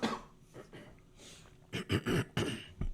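A man coughs hard several times in quick, rasping bursts, throat-clearing between them, close and loud during a cigar-smoking conversation.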